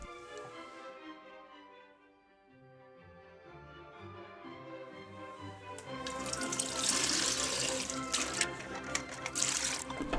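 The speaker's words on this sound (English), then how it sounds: "It is better to wash the film with running water" Tap water runs to wash developed photographic film at home, starting as a soft, quiet trickle and then swelling into a louder, steady gushing splash close by, with no talking.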